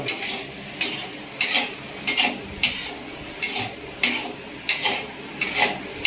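A spatula scrapes and taps against a pan as a twelve-year-old girl stirs food over a gas stove, giving regular clinking strokes about every half second, close and clear.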